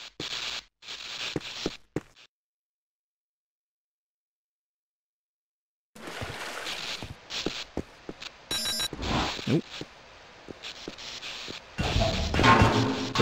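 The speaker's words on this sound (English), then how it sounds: "Pretty sure that was the sound of a mine activating." Mine activating in the video game Half-Life: Opposing Force: a short, bright electronic ringing burst stands out amid scuffling game sounds and thuds, following a stretch of silence.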